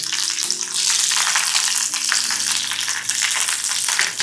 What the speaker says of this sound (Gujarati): મરચાંને આપણે ફ્રાય કરી લઈએ ભક્તો હવે મરચાંને સિમ્પલી રોસ્ટ કરી લેવાના છે